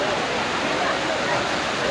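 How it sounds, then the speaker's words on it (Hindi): Fast-flowing Ganges river water at a Haridwar bathing ghat, a steady loud broadband rush of churning water filling the whole stretch without letup. "देखिए पानी का बहाव किस कदर तेज है"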